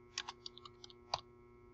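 A brief run of soft keyboard key clicks, irregular taps with one sharper press near the end, close and quiet.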